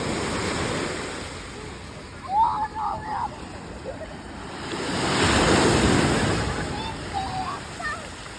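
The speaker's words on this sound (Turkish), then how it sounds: "bayağı dalga çıktı" Sea waves wash and surge in a swelling roar amid wind noise, with people talking faintly in the background.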